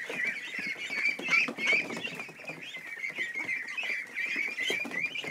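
Young ducks in a barn, a flock quacking and peeping continuously in a busy, overlapping chorus, close and steady throughout with no talk.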